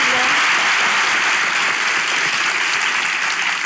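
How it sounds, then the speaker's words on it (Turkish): Studio audience applause on a Turkish talk show, loud and dense, a continuous wash of many hands clapping close by without letup. "Alkış"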